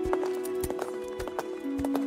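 Hoofbeats of a horse ridden at speed in the Chola-era strategy game Unsung Empires, a quick, fairly faint clip-clop rhythm over a sustained musical tone.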